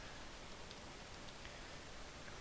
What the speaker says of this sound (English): It is raining in game.